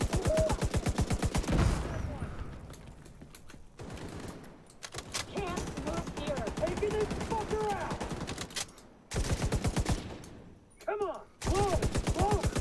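Gunfire from a first-person shooter game, bursts of rapid automatic shots in several stretches broken by short pauses, loud and close, with voices from the game mixed in.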